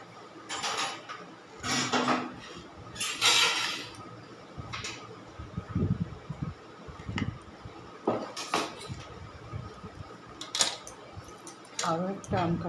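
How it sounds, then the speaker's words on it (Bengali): Knife chopping fresh mango into pieces on a board for mango kalakand, with scattered clinks and taps of cutlery and dishes at an uneven pace, close by, while a person talks now and then. "আরও একটা আম কাটছি।"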